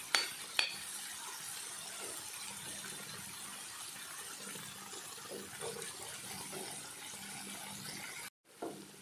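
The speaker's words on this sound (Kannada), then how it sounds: "ಸ್ವಲ್ಪ ಹೊತ್ತು ಎಣ್ಣೆಯಲ್ಲೇ ಫ್ರೈ ಮಾಡೋಣ" Drumstick pods and onions frying in a little oil in a pan for a palya, a steady soft sizzle with occasional stirring scrapes, fairly faint and continuous, broken by a brief dropout near the end.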